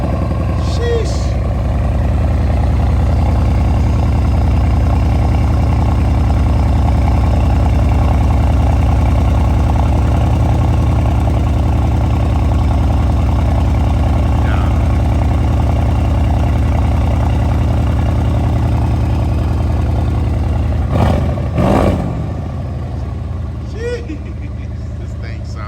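Mercedes-AMG 5.5 litre twin-turbo V8 idling steadily with a deep low rumble throughout, close by, then a brief rev blip near the end with a few pops, while people talk over it.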